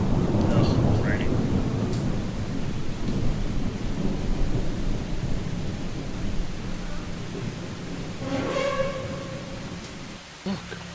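Steady rain with a deep rolling rumble of thunder in Project Zomboid fills the whole stretch as a dense, continuous wash, with a voice briefly heard over it.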